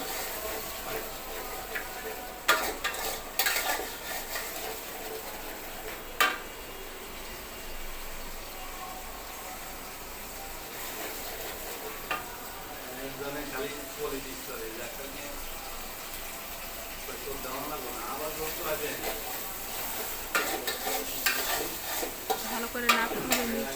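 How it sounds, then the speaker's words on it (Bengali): Spices stir-fried for a raw jackfruit curry, a steady sizzle in the pan with repeated scraping and stirring strokes and occasional clatter, close and continuous, with a voice talking over parts of it. "মশলা সুন্দর করে কষিয়ে নিতে হবে লাইভ কুকিং চলছে মশলা কষানোর ভিতরেই রান্নার মজাটা হয়"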